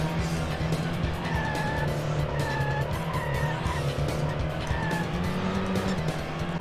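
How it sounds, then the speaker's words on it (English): Tires skid and squeal over a steady engine drone as a rally car slides through corners in the Sega Rally Championship arcade driving game, running continuously and loudly through the whole stretch. "it's Sega Rally. It's basically a fantastic game, fantastic driving game"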